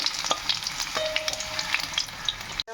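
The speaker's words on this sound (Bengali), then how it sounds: "আমি লাল লাল করে ভেজে নেবো, উল্টে পাল্টে।" Stuffed potatoes frying in mustard oil in a kadai, a steady close crackling sizzle broken by scraping clicks as the pieces are turned over, ending in a brief knock.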